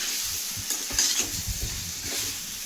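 Green chillies, red chillies and curry leaves fry in a pan for a quail gravy, giving a steady close sizzle with soft repeated scraping and stirring strokes throughout, and no voices.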